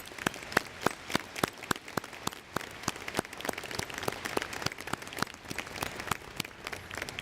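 A university convocation audience gives faculty and staff a round of applause, heard as fairly faint, scattered sharp claps in an uneven rhythm, spread across a large room.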